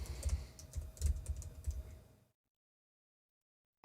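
A username and password typed on a computer keyboard, a quick run of close, light key clicks lasting about two seconds before falling silent.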